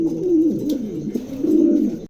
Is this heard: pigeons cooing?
yes